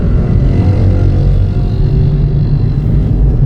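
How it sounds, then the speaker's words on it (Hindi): Loud, continuous engine roar of motorbikes in street traffic, a heavy low rumble that stays close and unbroken. "ये बाइकों का शोर हो रहा"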